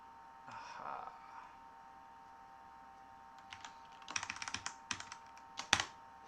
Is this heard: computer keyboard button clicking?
yes